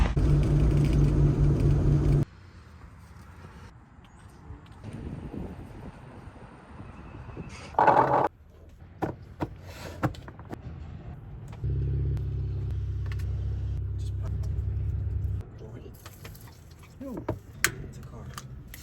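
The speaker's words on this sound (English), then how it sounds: "It's a car." A car passing or driving by on a street near an RV park, heard as a low rumbling engine drone that comes and goes in stretches, with some quieter gaps and short clicks in between.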